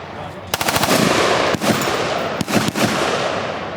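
Rapid automatic machine gun bursts ring out at a shooting booth during a Palmetto State Armory gathering, loud and near, with sharp repeated volleys and brief pauses between strings of fire.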